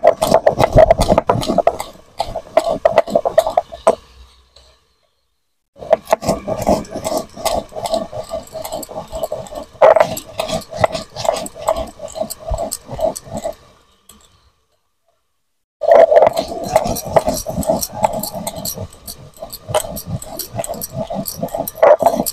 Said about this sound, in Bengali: আমি ভেজে রাখা মশলাটা একটু গুঁড়ো করে নেব